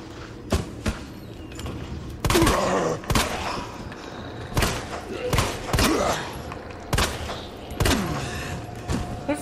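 Heavy magnum revolver shots in Resident Evil 2 Remake ring out one by one at uneven intervals, each a sharp, loud crack with a short echoing tail, mixed with occasional thuds and mechanical clanks.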